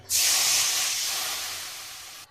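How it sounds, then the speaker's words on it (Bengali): Water poured into a hot wok gives a loud, sudden hiss of steam that fades slowly over a couple of seconds, heard alone. "ওই কড়ার ভিতরেই আমি দিয়ে দিচ্ছি জল"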